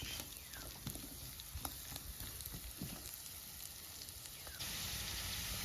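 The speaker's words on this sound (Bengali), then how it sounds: "এবার আমি একটু লাল লাল করে ভেজে নেব।" Potatoes coated in turmeric frying in a pan, a steady soft sizzle and crackle running throughout with occasional faint stirring scrapes, growing a bit louder and brighter near the end.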